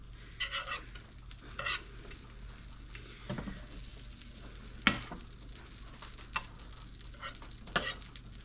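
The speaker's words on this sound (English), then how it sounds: "I'm just going to put a little bit of butter on the pan." A little butter sizzles softly on a crepe pan, a low, quiet frying hiss punctuated by a few sharp clicks and scrapes.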